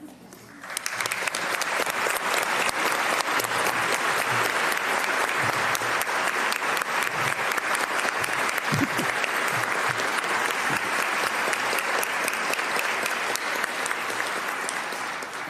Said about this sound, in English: They should get applause.